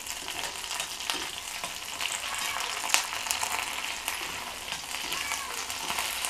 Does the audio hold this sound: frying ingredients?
yes